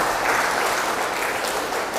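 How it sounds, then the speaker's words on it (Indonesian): A church congregation applauding and cheering for Jesus, with dense, loud, steady clapping from many hands that fills the room without a break. "Berikan sorak-sorai buat Tuhan Yesus."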